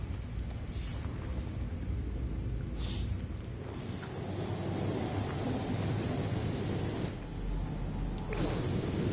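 Steady rain falls in the video game No Man's Sky, a continuous dense hiss with low rumbling, faint and unbroken, with no voices over it.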